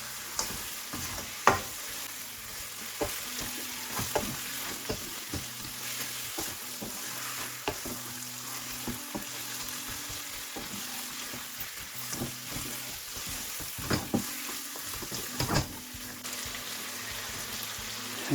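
Lamb chops sizzle steadily in a pan with garam masala, a continuous frying hiss broken by repeated scraping and stirring knocks, close and fairly loud with no talking.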